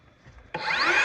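A hand saw begins cutting into a wooden board, a sudden rasping stroke that starts midway and stays close and steady to the end after a quiet lead-in.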